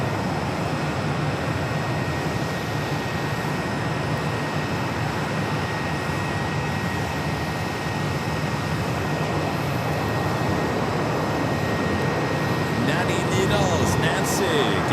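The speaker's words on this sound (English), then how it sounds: "Here we have an A321 coming in from Ontario, California, American, 3016." American Airlines A321 arriving at Phoenix Sky Harbor from Ontario, California, a continuous broad jet rumble holding steady throughout with faint voices and background noise mixed in.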